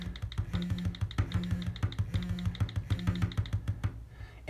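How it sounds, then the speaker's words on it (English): Steady typing on a computer keyboard while entering random passcodes, with rapid, evenly paced clicks close to the microphone, heard alone throughout. "let's go ahead and slide over and just start typing in random codes"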